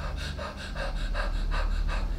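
A person breathing rapidly through the mouth into the chest, a rhythmic series of about six quick, fairly loud panting breaths with no talking.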